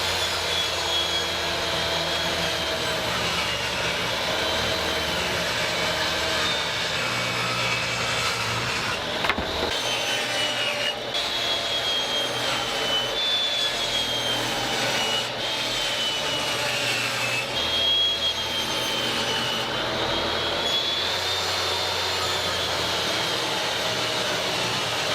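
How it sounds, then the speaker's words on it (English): A table saw runs steadily, ripping wood pieces to width for a small storage shelf: a continuous loud whine and roar with brief dips where cuts finish, no talking. "cutting them down to length, ripping them to width over at the table saw"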